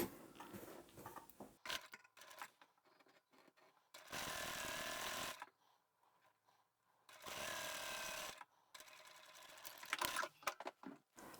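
Domestic sewing machine running a 1 cm seam along a craft tote bag, in two steady whirring bursts of about a second each, separated by quieter fabric handling and clicks.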